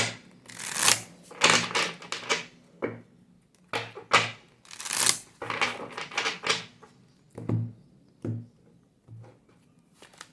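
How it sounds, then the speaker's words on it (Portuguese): Tarot cards are shuffled and laid out up close, a series of crisp papery riffles and soft slaps in irregular bursts with brief pauses between them. "vamos tirar aqui as cartas para você que escolheu essa leitura"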